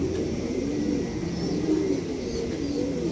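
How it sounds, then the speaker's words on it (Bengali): Racing pigeons coo steadily up close, a continuous layered chorus of low throaty calls from several birds, with faint higher chirps scattered through it. "দেখেন কবুতর"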